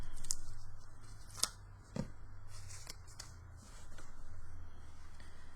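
Scissors snip through a paper crayon wrapper in a few sharp, close cuts separated by quiet rustling and handling of the crayon.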